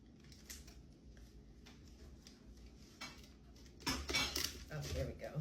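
A kitchen knife scrapes and cracks through hardened homemade candy made from leftover Halloween sweets. Faint clinking comes first, then a louder cluster of sharp cutting snaps near the end.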